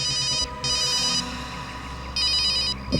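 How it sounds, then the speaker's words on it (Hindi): A telephone rings in two loud electronic bursts separated by a pause, with a low background hum throughout. "अभिजीत का फोन है।"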